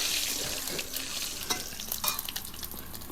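Cumin seeds, dried red chillies and a bay leaf hit hot oil for a cauliflower and katla fish curry, giving a bright sizzling crackle with scattered pops and a few spoon stirs, close and without speech.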